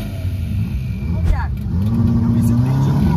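A Volkswagen Jetta engine rumbles close by and revs up, rising in pitch and holding a loud, steady drone while voices talk over it.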